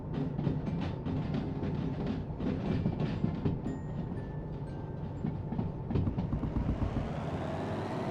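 A train rolls along rails in the game Derail Valley, a steady rumbling rush with clacking and metallic squeals, carrying a diesel load around a 30 mph corner, holding loud throughout with no talk.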